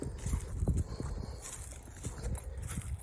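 A horse walks up a hill with soft, uneven hoof thuds on the ground, fairly close, in an outdoor setting with a faint background hiss.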